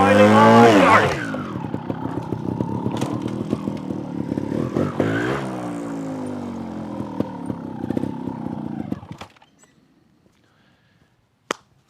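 A motorcycle engine revs during slow-speed obstacle riding, holding a steady, throaty mid-pitched drone that swells and wavers for about nine seconds before cutting off, followed by near silence and one sharp click.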